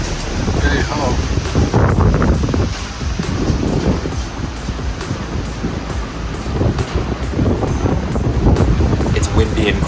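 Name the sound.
strong wind blowing outdoors in Kazakhstan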